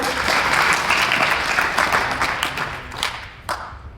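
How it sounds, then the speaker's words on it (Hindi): Steady applause from a crowd at a worksite safety motivation program, many hands clapping continuously and fairly loud, tapering off slightly toward the end with a few scattered claps. "तो इनके लिए एक बार तालियां हो जाए।"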